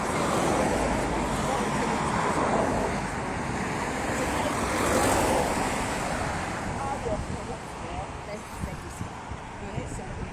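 Continuous roar of southbound traffic on a very busy bridge, a dense wash of tyre and engine noise with wind, loud and steady throughout, with a person speaking over it.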